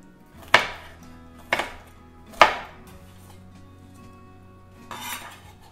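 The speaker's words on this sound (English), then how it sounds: "finely chop this jalapeno and then some tomatoes and some onion, cilantro, some seasoning" Kitchen knife chopping jalapeno, tomatoes and onion on a board for guacamole, three sharp close strikes about a second apart, then a softer scraping sound near the end.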